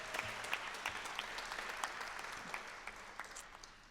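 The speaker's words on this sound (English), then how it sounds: "So how about a round of applause for all of them?" A church congregation applauds the musicians after a Sunday performance, steady soft clapping from many hands at a moderate distance, continuous for a few seconds and slowly fading.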